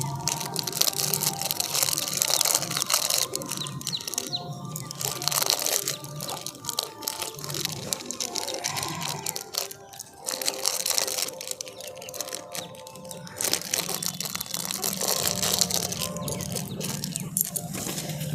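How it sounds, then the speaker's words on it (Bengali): Soft, steady crunching and crumbling as paneer cheese is broken into pieces by hand, a close, continuous crumbly rustle with faint kitchen clatter over about eighteen seconds. "এই পনির চিজটাকেও আমি এইভাবে টুকরো টুকরো করে দিয়ে দিচ্ছি"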